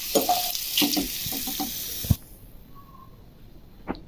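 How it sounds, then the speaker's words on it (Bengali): Dried red chili, bay leaf and cumin crackle and spit in hot oil for a cauliflower paneer dish, with a busy sizzle and sharp pops for about two seconds, then a sudden drop to a quiet hiss broken by a single clink. "একটা শুকনো লঙ্কা, তেজপাতা, জিরা"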